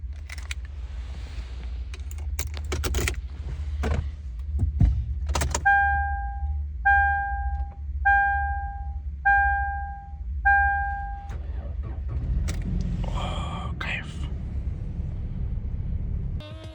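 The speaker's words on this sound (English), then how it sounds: "The best thing about this engine, how it starts, just listen to this." A Toyota Land Cruiser Prado J120 engine is started up: a few clicks and clunks, a series of evenly spaced chimes, then a short starter crank and the engine catching into a steady idle.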